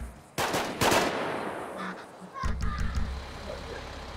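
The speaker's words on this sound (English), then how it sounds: "What are you shooting back there?" Gunfire in a video game, a couple of sharp loud shots early followed by a burst of quicker, quieter rattling fire, with someone talking over the action.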